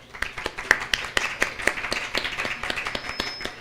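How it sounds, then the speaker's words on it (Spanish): Applause from a small audience at a university science talk, light scattered clapping with distinct individual claps, fairly quiet and steady for several seconds. "Un aplauso para Lucas, por favor"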